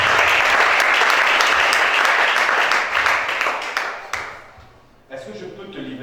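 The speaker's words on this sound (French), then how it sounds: "Acclame chacun." Church congregation applauding during a worship service: dense, loud sustained clapping that fades toward the end, then a brief burst of voices and renewed clapping.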